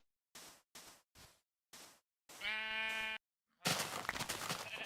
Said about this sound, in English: a little bit of a detour to get these sheep.